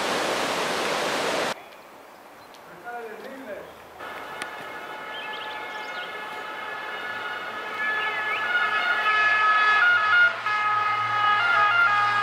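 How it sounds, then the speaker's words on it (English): An emergency vehicle siren wails in a village in the Italian Alps, rising out of rushing water noise after a burst of louder sound at the start, its tones growing steadily stronger and closer toward the end. "Siren seems somewhat out of place in this setting."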